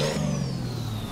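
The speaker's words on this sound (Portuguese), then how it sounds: "Olha o ronco desse caminhão" A Ford Cargo truck engine roars in Euro Truck Simulator, with a brief loud rev burst at the start settling into a steady, droning mid-pitched engine tone with a faint falling whine above it.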